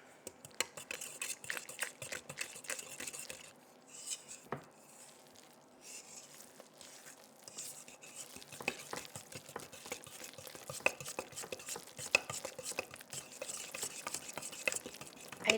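A spoon mixing flour into yeast dough in a bowl for German Sunday bread rolls, with faint irregular scraping, tapping and soft squishing strokes, close and quiet, briefly pausing midway before resuming.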